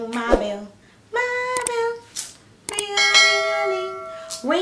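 A notification-style bell sound effect chimes several times in short bursts, ringing out clearly with lingering tones and no talking over it.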